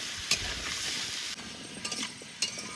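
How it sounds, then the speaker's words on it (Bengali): Potatoes and papaya fry in a pan with a soft, continuous sizzle, broken by a few light scraping stirs, close and fairly quiet with no voices. "এবার আলু আর পেঁপে ভালো করে ভেজে নেব।"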